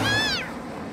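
Cartoon cat giving a single short meow, loud and close, sliding downward in pitch and fading within half a second.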